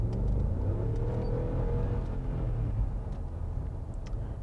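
A supercharged Range Rover Sport with 140k miles drones steadily while driving, a low engine rumble held in too high a gear, continuous and fairly loud with no talk over it.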